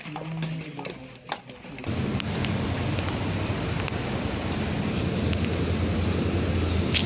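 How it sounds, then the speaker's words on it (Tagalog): Rain falls in a steady, close hiss of patter with scattered sharper drops, starting abruptly after a quieter opening and continuing evenly to the end. "It's raining, Lovey. It's raining."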